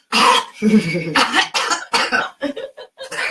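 Several short harsh coughs in quick succession, loud and close, with bursts separated by brief pauses.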